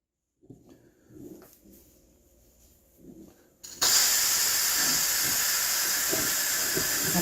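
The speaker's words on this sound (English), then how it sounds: "And then it's going to let off steam" An Instant Pot pressure cooker holding barbecue spare ribs, finishing after a natural release, lets out a loud, steady hiss of venting steam that starts abruptly after a few seconds of quiet handling noises and keeps going without a break.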